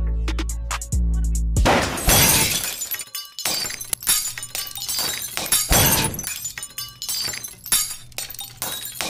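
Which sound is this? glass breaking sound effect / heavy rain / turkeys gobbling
glass breaking sound effect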